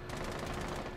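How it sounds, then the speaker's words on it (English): Sustained automatic gunfire from a Rainbow Six Siege match rattles continuously at close range, a dense rapid burst of shots filling the whole moment with no talk over it. "Wait, who's shooting me?"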